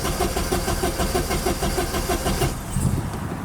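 A stationary car engine running rough and firing, a loud close rapid pulsing rumble with regular beats that fades toward a lower throb at the end, no voices.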